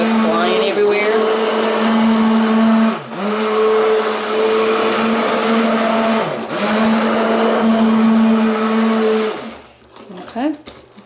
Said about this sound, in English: Raising the stick blender up because it will go flying everywhere.